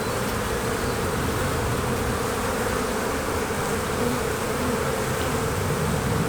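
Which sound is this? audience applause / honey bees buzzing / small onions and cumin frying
honey bees buzzing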